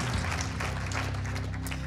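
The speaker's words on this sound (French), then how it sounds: "On les applaudit bien fort tous les 4." An audience claps for four housing award winners at a ceremony, a brief burst of steady, moderately faint applause from a room full of people.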